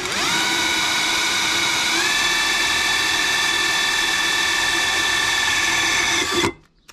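A power drill bores anchor holes into a plant pot, whining at a steady pitch that steps up slightly partway through, then spins down and stops abruptly near the end, loud and close.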